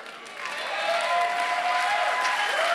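A church congregation breaks into applause during a sermon, starting moderately and swelling into sustained, fairly close clapping with some crowd noise underneath.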